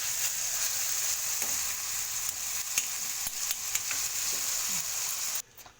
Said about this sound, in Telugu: బాగా నూనెలో మగ్గించుకుందాం